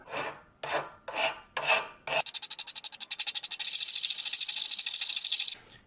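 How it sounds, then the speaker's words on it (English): A file rasps against a Traxxas X-Maxx fan part clamped in a vise, first four slow separate strokes, then a fast even run of short scrapes blending into a steady bright grinding that stops abruptly. "we're going to do is just shave off two sides, so then we can make it 35mm and fit into the fan mount"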